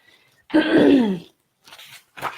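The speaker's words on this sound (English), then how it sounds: "Excuse me, now I have a cough." A single harsh cough rings out close by, followed by two shorter, softer throat-clearing rasps after a brief pause.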